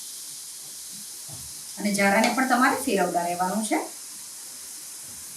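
Boondi batter drips through a slotted spoon into hot oil in a kadai, making boondi for laddoos. A soft, steady frying sizzle runs throughout, and a voice speaks over it briefly in the middle.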